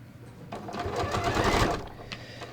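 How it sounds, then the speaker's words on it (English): A sewing machine stitches an invisible zipper in a short, steady whirring run of about a second, rising and easing off, fairly quiet and close with no other sound over it. "And then I'm going to continue stitching."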